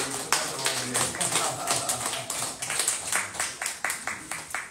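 A crowd claps steadily at a church service, a dense patter of many hands sustained throughout, with faint voices mixed in.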